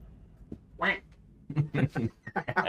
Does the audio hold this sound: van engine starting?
no